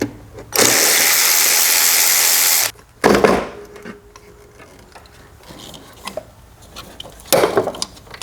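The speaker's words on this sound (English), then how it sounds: "So we'll take all the bolts out and just kind of lean this over." Work on a Nissan 3.5L V6 engine as the throttle body bolts come out: a loud two-second whirring burst like a power tool, then a sharp clatter and scattered close knocks and ticks of handling parts.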